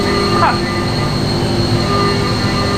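A powerful air compressor runs in a race car workshop, giving a loud, steady droning hum with a constant whining tone. A brief voice cuts in near the start.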